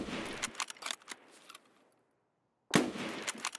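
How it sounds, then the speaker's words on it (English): Gunshots in the Escape From Tarkov game: several sharp cracks in a quick burst, then a lull and another cluster of sharp reports, fairly close with brief echoing tails and no voice. "Fire a couple of shots, get back into cover, relocate"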